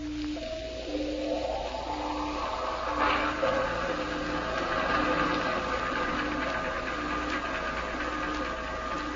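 Ship engine running at half speed as an old-time radio drama effect, a steady low rhythmic chugging and throbbing with repeating pulsed tones over a constant mechanical drone.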